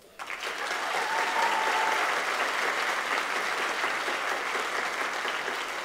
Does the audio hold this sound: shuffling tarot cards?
no